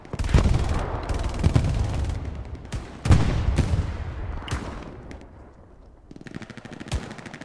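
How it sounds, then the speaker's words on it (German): Sharp rifle cracks ring out in the Hell Let Loose battlefield, about half a dozen irregular shots at mid distance, each leaving a short echoing tail over faint background rumble. "Irgendwo schießt hier ein Sniper rein."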